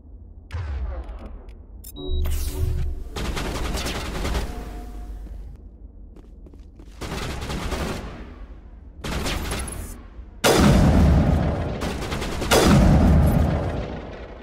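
Gunfire from a weapon in Mass Effect 1 Legendary Edition on PC, heard as several loud bursts of shots separated by short gaps, with heavier, denser volleys toward the end.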